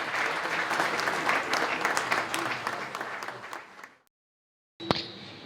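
Audience applause at an inauguration ceremony for a France–Central America meeting of university rectors, steady dense clapping for about four seconds, then a brief silence before a short renewed burst.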